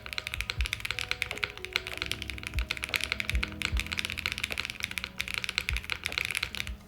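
Close, rapid keystrokes on a Monokei x TGR Tomo mechanical keyboard fitted with PE foam, with a steady run of quick taps and a few louder thocks and no talking.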